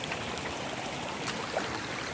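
A small shallow creek flows in a steady, even wash of rushing water, moderately quiet and continuous, with no one speaking.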